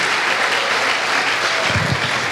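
Congregation applauding in church, a dense steady wash of many hands clapping at once, loud and continuous with a brief low rumble of a voice or shout near the end.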